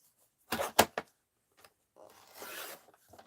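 Paper for an art journal is cut quietly at close range: a few sharp snips in quick succession, then a softer drawn-out rasping cut, with near-silence between them.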